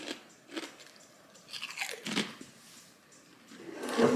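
Cape Cod potato chips crunch loudly and close up in several separate bites, each a sharp crackle followed by steady chewing, with no talking.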